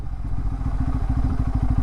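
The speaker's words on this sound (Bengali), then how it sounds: "সেকেন্ড গিয়ারে ছেড়ে দিলাম আমি এটাকে, ক্লাচ গিয়ার কিছুই আমি ইউজ করছি না, থ্রটল ছেড়ে দিয়েছি আমি।" A motorcycle rolls in second gear with the throttle shut and no clutch, its engine giving a rapid, even, close-up chugging pulse through the short stretch.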